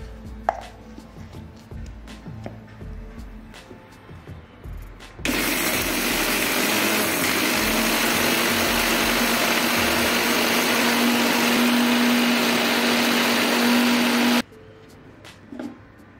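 A mixer grinder runs loudly for about nine seconds, whirring through fennel, cardamom, cumin and sugar, then stops; quieter clinking and handling sounds come before and after the steady burst.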